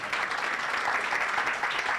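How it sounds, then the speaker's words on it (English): An audience at an investment awards ceremony claps in a steady, dense wash of applause, with no break and no voices over it. "Makofi kwake tafadhali"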